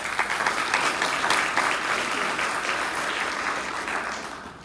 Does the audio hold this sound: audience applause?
yes